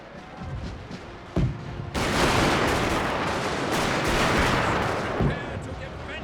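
Highlanders firing rifle volleys in a Total War Anglo-Zulu War battle at a British fort, a dense roar of musketry with sharp bursts and continuous crackling gunfire, preceded by quieter battlefield ambience.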